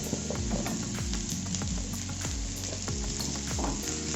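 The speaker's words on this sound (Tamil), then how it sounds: "இப்போ ஆப்பிள் போட்டுக்கலாம்." Apple pieces roasting in butter or ghee in a pan, giving a steady close sizzle and frying crackle with soft rhythmic stirring or scraping thuds, no voices.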